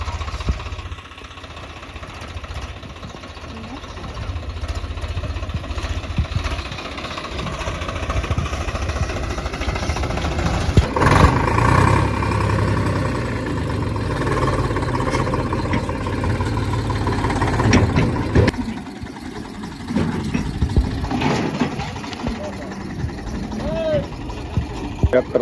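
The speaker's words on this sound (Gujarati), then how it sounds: "ટ્રેક્ટર આવી ગયું છે" A tractor engine in a Gujarat farming simulator game drones steadily at a low idle, swelling louder midway, with a voice talking over it throughout.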